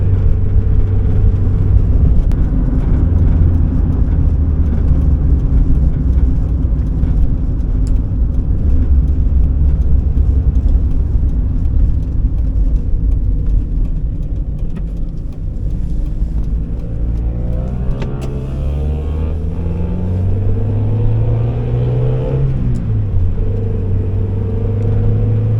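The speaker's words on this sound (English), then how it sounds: "And here I find myself in an NA Miata." A 1991 NA Mazda Miata with a five-speed gearbox cruises on rural roads, its engine droning steadily under strong low rumble and road noise, with the pitch sliding up and down through a gear change near the end.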